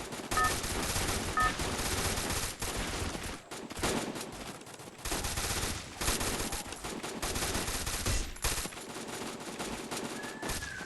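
Rapid automatic gunfire in the Free Fire mobile game's zombie mode, loud rattling bursts repeating through the whole stretch with short breaks between volleys.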